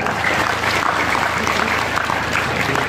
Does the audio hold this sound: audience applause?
yes